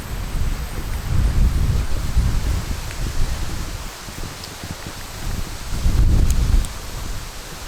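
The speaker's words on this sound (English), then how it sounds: "Man, it's really windy." Steady outdoor wind buffets the microphone with low rumbling gusts, strongest at the start and again near the end, with a light rustle throughout.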